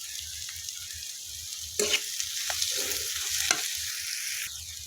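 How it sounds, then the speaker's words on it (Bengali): Chopped onions and green chillies fry in a pan for an egg curry, a steady close sizzle broken by a few sharper scrapes and clatters from stirring, with no talking. "এখানে আমি পেঁয়াজ কুচিগুলো ভালো করে ভেজে নেব"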